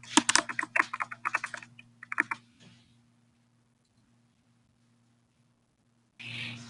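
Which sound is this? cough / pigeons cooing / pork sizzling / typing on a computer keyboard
typing on a computer keyboard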